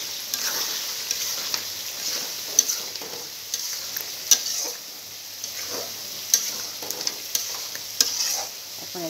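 A blended paste of fried onion, tomato, coriander leaves, green chili and milk hisses softly in a pan, with a steady sizzle and occasional light scrapes and taps of stirring, close and without talk.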